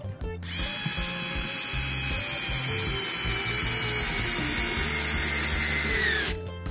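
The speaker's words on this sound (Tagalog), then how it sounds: "tingnan natin kung gaano natin kabilis mailalagay itong screw dito sa tabla, okay?" An IKEA Fixa electric screwdriver drives a Phillips screw into a wooden board, its motor whirring loud and steady for about six seconds with a ratcheting buzz, starting and stopping abruptly.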